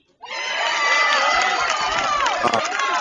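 A loud, sustained crowd cheers and shouts without pause at an NCAA Division I women's tennis super regional hosted by NC State.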